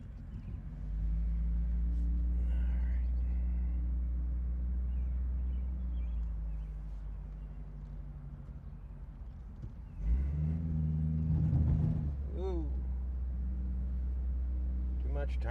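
A car pulls away from a Dollar Tree parking lot on new tires and keeps driving, its low engine and road rumble steady and close throughout, swelling briefly near the end as it accelerates or turns.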